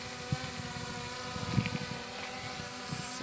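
A DJI Mini 4 Pro drone hums with a steady, buzzing drone, mixed with bursts of wind buffeting the microphone.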